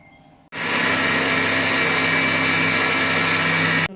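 An electric blender grinding appam batter of rice, yeast and water starts abruptly after a short quiet moment, then whirs loudly and steadily at constant speed before cutting off.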